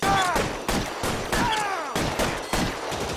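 Gunfire in an L.A. Noire shootout cracks out as a rapid series of sharp, loud shots at steady intervals, each followed by a ringing metallic tail and brief echo.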